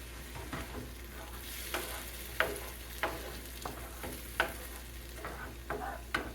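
An egg with plenty of homemade salsa fries in a pan, giving a steady close sizzle broken by periodic sharp scrapes and taps of a utensil against the pan, with no talking.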